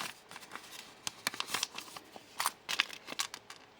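A paper list from a Bead Box Bargains bundle is folded up by hand, giving close, quiet, irregular crinkles and crisp paper rustles in short bursts with no talk.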